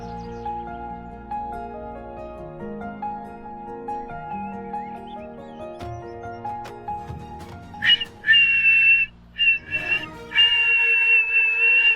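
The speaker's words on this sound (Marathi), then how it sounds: "शिट्ट्या काय मारतोस?" A person whistles in sharp, loud tonal bursts, several short blasts followed by a longer sustained note, entering after a stretch of background music.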